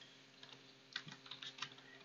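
Fingers typing on a computer keyboard, a quiet close burst of uneven key clicks with brief pauses, no talking over it.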